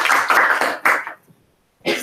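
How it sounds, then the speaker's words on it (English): Brief burst of audience clapping at a graduate school event, a few loud rounds of dense claps that drop to near silence before another short burst resumes. "So let's give a round of applause."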